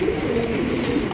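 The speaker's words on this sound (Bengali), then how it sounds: "কত সুন্দর এক জোড়া বিগ সাইজের কালারিং রাজগোল্লা কবুতর নিতে পারতেছেন" A pair of big, colourful Rajgolla pigeons coo, giving a brief, close, low throaty coo with no voices over it.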